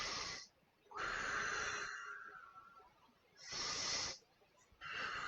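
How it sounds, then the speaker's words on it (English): Several big, deep breaths are drawn and released close by in a quiet room during a yoga and mindfulness session, heard as slow, airy, hissing whooshes separated by short pauses. "take 3 big breaths"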